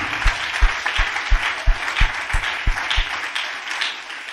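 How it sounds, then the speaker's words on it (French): A church congregation at a pastor's service in Benin claps in a steady, rhythmic beat, a loud close burst of applause that fades toward the end. "And I would like to clap for you."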